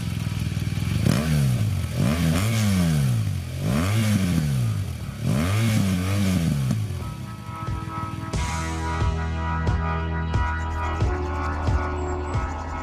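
A 2017 BMW R 1200 GS motorcycle accelerates hard through several gears with its Shifter Pro, each rising engine whine cut by a quick shift. It then settles into a lower, steady drone with light mechanical clatter.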